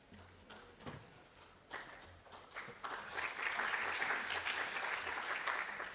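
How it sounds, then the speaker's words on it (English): Audience applause at a drone deconfliction and air traffic conference session, starting as scattered claps and swelling into steady, full clapping from a crowd that continues to the end. "You're very kind applauding before I begin."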